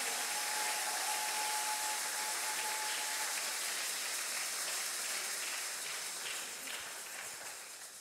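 Church congregation applauding and cheering in acclamation during a Sunday service: a broad, steady wash of clapping from a large crowd, sustained throughout and fading slightly toward the end.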